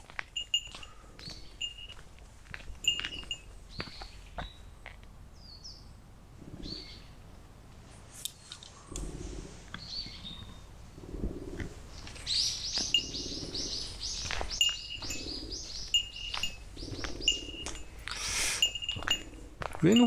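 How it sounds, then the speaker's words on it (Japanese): Birds chirp from somewhere overhead in woodland near the Suso Ezoana ancient burial mound on Notojima, with sharp, scattered tweets that grow busier later, heard over footsteps and rustling. "上の方から聞こえるから鳥なんだよな、多分な。"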